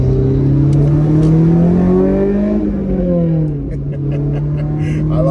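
Engine of a 2007 Honda S2000 pulling hard from inside the car on an open road, a steady droning note climbing in pitch as it accelerates, then easing briefly before building again.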